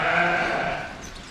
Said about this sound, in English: Hey, the sheep.